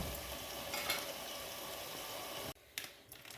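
Chicken pieces frying in masala for a hotel-style spicy chicken biryani, a steady close sizzle that cuts off abruptly before a few stirring clatters.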